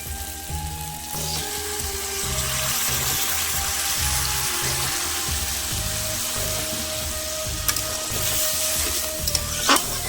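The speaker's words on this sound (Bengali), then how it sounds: "এর ভিতরে আমি একটু জল দিয়ে দেবো" Katoa data (vegetable stalks) sizzling loudly in a pan after a splash of water, a steady, close frying hiss with bubbling that continues throughout, occasional faint utensil clinks.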